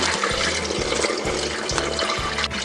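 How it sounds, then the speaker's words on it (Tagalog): Water pours steadily into a pot of beef to make broth for a Bisaya bakareta stew, a loud, continuous gushing splash heard close up with a pulsing low rumble beneath and no talk. "maglalagay pala tayo ng tubig para uh, pansabaw natin dito para lumambot po yung ating beef"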